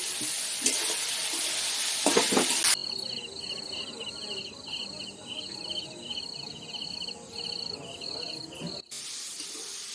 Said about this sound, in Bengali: মাংস দিয়ে ঘুগনি হবে, তো ওই জন্য মাংসটা আগে ভেজে নিচ্ছি